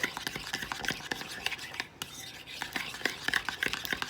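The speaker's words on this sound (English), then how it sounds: "Then we're gonna mix this up." Taco coleslaw being mixed in a bowl, with a steady run of scraping, clicking utensil strokes against the bowl close by, briefly pausing midway before the stirring resumes.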